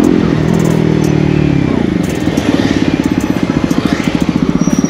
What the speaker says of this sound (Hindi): आवाज़ यहाँ पे खतरनाक सी निकाली है इटू भाई की बाइक में।